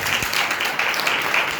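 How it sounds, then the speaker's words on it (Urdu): A church congregation breaks into loud, sustained applause during a worship service, a dense, steady wash of clapping that fills the whole moment without a break. "اس وعدہ کے لیے زوردار تالیاں بجائیں"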